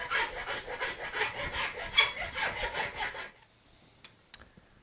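A fine file cleans up tool marks on a wooden board bow with rapid, rhythmic rasping strokes, close and clear for about three seconds, then stopping before a couple of faint taps.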